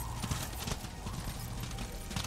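A horse gallops in the video game Darksiders, a quick, rhythmic clip-clop of hooves repeating steadily at moderate volume.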